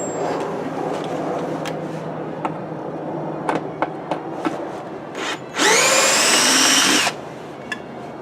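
A power drill backs screws out of a microwave oven transformer during a rewind, opening with scattered clicks and taps before one loud burst of whirring motor that runs about a second and a half and then cuts off.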